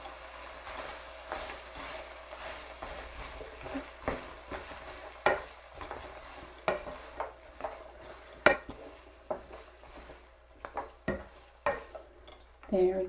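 Rainbow beef stir fry with vegetables is tossed in a pan, the spatula clanking and scraping against the metal in irregular strokes over a faint sizzle, close and fairly quiet.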